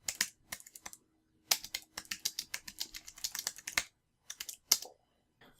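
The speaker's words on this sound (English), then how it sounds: "I'll quickly just do a bit of typing on it now so you can hear what it sounds like." Fingers type on an Anker wireless slim keyboard in quick, quiet bursts of crisp keystrokes, separated by brief pauses, heard close up.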